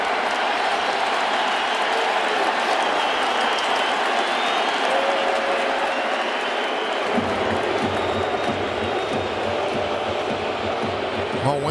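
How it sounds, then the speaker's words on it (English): At Yankee Stadium, with the bases loaded in the bottom of the fourth, a huge crowd roars and cheers continuously, a loud sustained wash of noise with a swell of rhythmic chanting or clapping in the latter half. "Crowd getting into it."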